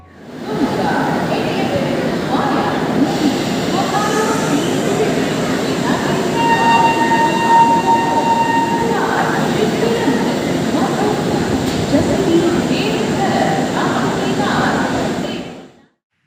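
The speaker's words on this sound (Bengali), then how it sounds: "নতুন দিল্লি থেকে প্রথম বন্দে ভারত এক্সপ্রেস ট্রেন চলাচলের উদ্বোধন করেন ভারতের প্রধানমন্ত্রী শ্রী নরেন্দ্র মোদী" A Vande Bharat Express train runs with a steady rumbling roar for about fifteen seconds, loud and continuous, with a faint tonal whine partway through.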